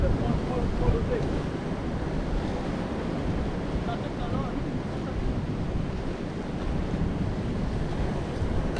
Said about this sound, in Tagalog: Oh, kita nyo yung alon.